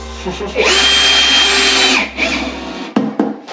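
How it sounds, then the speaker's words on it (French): A power drill drives screws into a drywall plasterboard panel during home renovation, a loud close whirring for about one and a half seconds, then a shorter burst and a few knocks. "Dernier petit bout de plaque de placo à visser."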